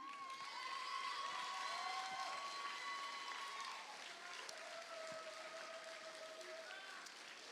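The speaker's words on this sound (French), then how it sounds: "Et dans la foule, ça exulte évidemment à l'entendre ce résultat." A crowd at a robotics award ceremony cheers and applauds continuously, a dense wash of clapping and shouts from a large audience, with an announcer's voice carrying over it.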